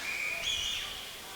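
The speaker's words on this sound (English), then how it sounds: "We got a whistle here" A referee's whistle sounds at a university ice hockey game, one short shrill blast that wavers briefly over a quiet arena background.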